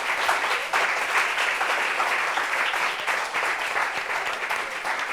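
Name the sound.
studio audience applause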